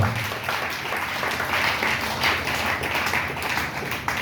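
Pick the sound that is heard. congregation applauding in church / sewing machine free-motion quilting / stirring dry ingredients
congregation applauding in church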